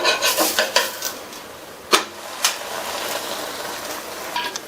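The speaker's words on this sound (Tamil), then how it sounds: "2 நிமிஷம் ஆச்சு. திருப்பி போட்டுக்கலாம்." Sweet poli cooking on a hot pan with ghee-oil mix, a soft sizzle broken by a few sharp clinks and scrapes of a spatula flipping it, the loudest near the middle.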